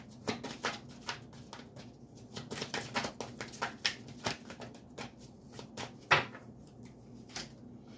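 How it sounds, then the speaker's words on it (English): Tarot cards being shuffled by hand, a steady run of soft riffling slaps and flutters with one sharper snap near the end, close and fairly quiet, with no talking. "Two more shuffles and I'll pull from the top."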